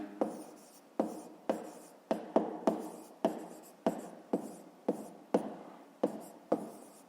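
Pen strokes writing numbers by hand on paper during a fifth-grade maths exercise, a steady series of about a dozen short, close scratchy bursts with brief pauses between them, no talking.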